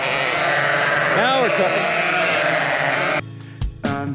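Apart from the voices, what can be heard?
sheep bleating for grain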